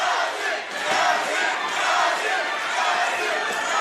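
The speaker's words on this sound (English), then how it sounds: "Crowd going absolutely ballistic here." A boxing crowd at the YangYang Li vs Kazeem Soyoye fight roars wildly through the final seconds, a dense, loud and continuous wall of shouting and cheering.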